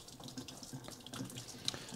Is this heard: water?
yes